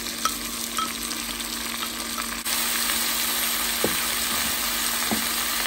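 Salt cod with onion sautés in a pan as a loud, steady sizzle hisses throughout, jumping a little louder partway through, with a few faint utensil clicks.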